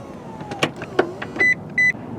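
The powered third-row seats of a 2019 Lexus LX570 rise with a short electric motor whir and a few soft clicks and thumps inside the quiet cabin, finishing with two brief electronic beeps.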